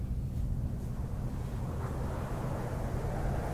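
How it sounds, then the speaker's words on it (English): Wind rushing past an airship observation deck in a fantasy soundpack ambience, with less engine noise: a steady, low, blustery roar with a broad hiss on top, continuous and even in level. "Obviously less engine noise, more the wind rushing past."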